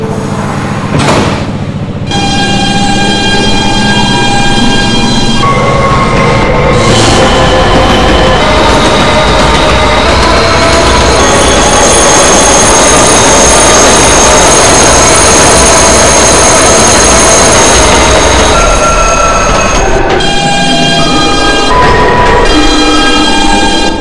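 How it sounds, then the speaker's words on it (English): An R160B Siemens subway train on the Manhattan-bound Q line rumbles loudly and steadily, with a high whine and shifting tones as it runs, a brief quieter pause near the start and again near the end. "This is a Manhattan-bound Q train via the M line."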